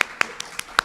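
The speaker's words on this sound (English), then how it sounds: "I hope you hear the clapping" A handful of separate hand claps ring out in a conference room for session presenters, about five sharp, close hits spread unevenly across under a second.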